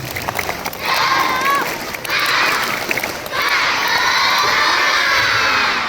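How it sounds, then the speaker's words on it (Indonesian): Elementary schoolchildren at a school orientation morning, a large group shouting a rhythmic spirit clap chant in bursts, loud and bright young voices with a brief pause between phrases. "Tepuk semangat"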